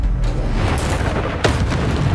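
A Confringo fire-blast spell from the Hogwarts Legacy wizarding game goes off as a loud, low booming explosion, with a sharper burst near the midpoint over continuous rumbling battle noise.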